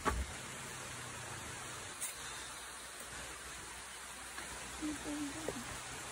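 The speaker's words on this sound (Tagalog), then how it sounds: "Ano guys, lumalakas na ang ulan" Steady rain falling outdoors on a farm during a festival outing, a soft continuous hiss with a few brief voices and bumps over it.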